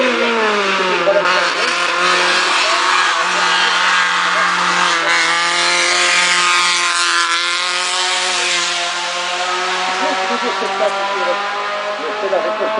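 Vintage period vehicles from a Montauban club drive past at a show, a loud continuous engine drone with steady revving tones, close and sustained throughout.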